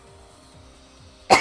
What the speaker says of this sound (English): You coughed so hard the motion detected light turned on.